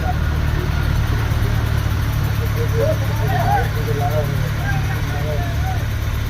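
A low tractor engine drones steadily throughout, with someone talking faintly over the rumble.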